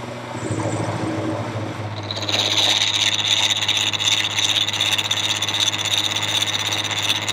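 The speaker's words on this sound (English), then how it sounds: "Let's see how this does cutting a 1/4 inch keyway full depth." A round column milling machine cuts a 1/4 inch keyway at full depth, giving a steady, close mechanical whine and grinding that grows louder and harsher as the cutter bites in, with no talking.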